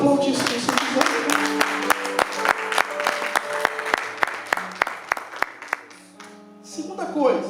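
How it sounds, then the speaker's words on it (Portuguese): A church congregation applauds during an evening service, the clapping moderate and somewhat scattered with distinct individual claps, mixed with sustained tones and a voice rising near the end. "Pode aplaudir se você quiser."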